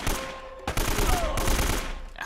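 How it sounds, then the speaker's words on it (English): Gunfire in the game Uncharted: Drake's Fortune, a burst of loud, close shots breaking into rapid cracks over dense battle noise, with a shotgun blast among them. "You heard that shotgun, dude."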